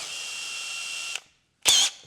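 A small drill bit bores a pilot hole in wood with a close, steady high-pitched whir for about a second, then stops and returns for a brief second burst.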